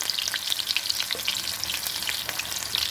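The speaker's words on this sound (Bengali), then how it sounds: "এখন বাকিগুলোও ভেজে নেব।" Batter-coated food fries in a pan over low gas, with a continuous close sizzle dotted by sharp pops and spatters, no voices.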